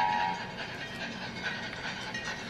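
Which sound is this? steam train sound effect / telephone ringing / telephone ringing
steam train sound effect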